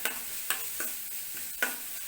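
Onions and cumin sautéing lightly in a pan: a soft, steady sizzle with a few spatula stirs and scrapes at irregular intervals, fairly quiet and with no talking.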